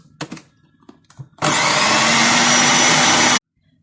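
A blender whirs loudly for about two seconds while mixing chicken kofta ingredients with egg, spices, salt and pepper, preceded by a few soft clicks and knocks, then cuts off abruptly into silence.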